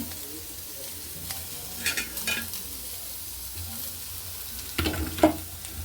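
Whole spices of bay leaf, cinnamon and star anise frying in hot oil for an egg curry, with a soft steady sizzle and occasional stirring scrapes, brief louder clatters near the end; no voices.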